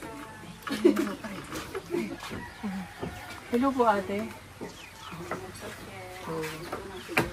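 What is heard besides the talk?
chickens clucking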